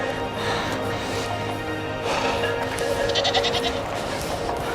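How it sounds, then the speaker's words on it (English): Several goats bleat close by, overlapping wavering cries over a steady background hum. "A group of goats."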